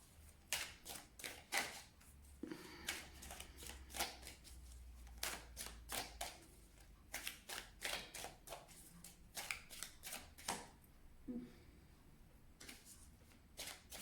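Oracle cards being shuffled by hand in repeated quick riffles and flicks, sharp papery bursts at close range separated by brief pauses, faint and without any voice.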